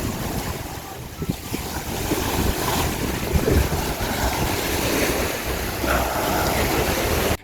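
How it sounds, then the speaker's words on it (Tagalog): Ocean waves wash and break continuously nearby on the coast at El Nido, Palawan, mixed with gusty wind rumbling across the microphone. "Nakakamiss talaga yung tunog ng alon dito."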